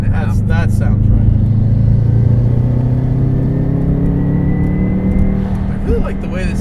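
A modified 2005 Subaru Legacy GT wagon's engine hums and builds steadily as the car accelerates, a loud, continuous rumble from inside the cabin with a rising tone and voices over it.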